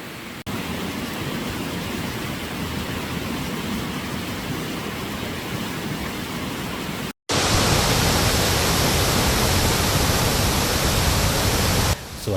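Flash-flood water thunders down the Ton Nga Chang waterfall in Songkhla, a dense, continuous roar that briefly cuts out and then returns louder and closer.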